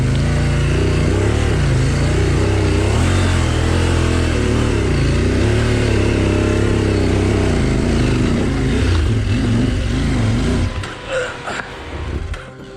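A CFMOTO 800 MT-X motorcycle engine labors loud and close while climbing a difficult off-road trail, revving and surging steadily for most of the stretch before dropping off abruptly near the end, leaving brief rustling and engine bursts.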